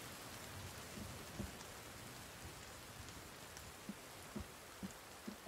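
Continuous rainfall in the survival game The Forest, a broad steady hiss with scattered louder drops and soft thuds striking surfaces, fairly close and uninterrupted by any speech.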